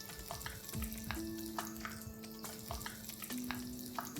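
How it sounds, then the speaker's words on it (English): Breaded chicken Kiev fries in oil in a pan over medium flame, a soft steady sizzle close by with a few clinks and scrapes from handling, and no talking. "I'm going to fry one at a time and fry it with ease."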